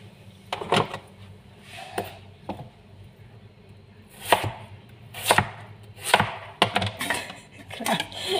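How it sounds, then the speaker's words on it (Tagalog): Knife chopping food on a board for a simple Filipino home-cooked dish, coming as irregular bursts of sharp close taps, some in quick runs and others single, separated by brief quiet gaps. "Chop natin."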